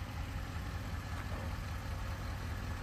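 A Porsche V8 petrol engine idles on a steep off-road slope, a low, steady rumble with a constant hiss, moderately quiet and unchanging, with no talk.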